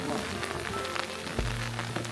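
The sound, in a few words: rain falling on umbrella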